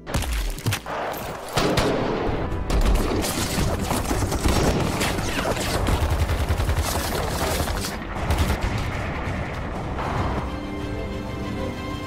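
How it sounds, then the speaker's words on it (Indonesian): Dense gunfire from a battle in an action film, with rapid bursts and volleys of shots crackling continuously and loudly for the full stretch, no talk over it. "Di bawah komando Letnan Faisal, akhirnya pertempuran pun terjadi."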